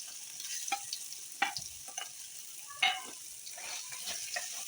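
Ground garlic paste frying in oil in a pan for an Elipaya karam chutney: a low, steady sizzle with a few sharp scraping stirs of a spoon scattered through, close by, and no talking.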